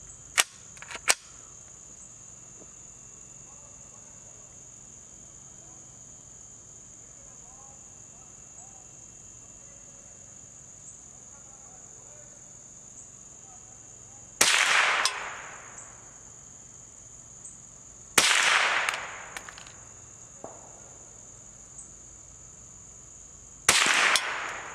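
Three sharp .22 rimfire gunshots fired offhand at targets outdoors in summer, spaced several seconds apart and loud against a steady high insect drone, with a couple of faint clicks earlier while the gun is handled.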